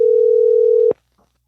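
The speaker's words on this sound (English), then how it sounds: "that ringing noise is coming over the podcast" A telephone line tone on an outgoing call to a sports podcast guest, one loud steady tone held for about a second before cutting off abruptly, then silence.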